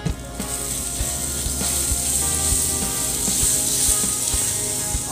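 Butter sizzling in a frying pan for a ginisang tuna sauté, a steady loud frying hiss with occasional utensil clicks and scrapes throughout.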